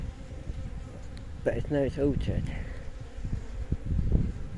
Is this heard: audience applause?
no